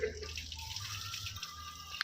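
Water runs and splashes as it is poured for drinking, a soft steady trickle with a faint hum underneath and no clear talk.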